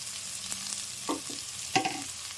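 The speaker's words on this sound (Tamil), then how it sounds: "உடம்புக்கு நல்லா வெங்காயம் வதங்கி வரட்டும்" Chopped onions sauté in a pan for a Tamil-style spinach stir-fry, a constant soft sizzle with a couple of distinct stirring scrapes, heard close with no one speaking.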